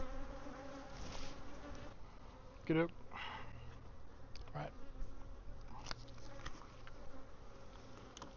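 Honey bees hum steadily inside an open hive during a swarm check, a dense, close drone while a person speaks briefly over it and a short knock sounds midway.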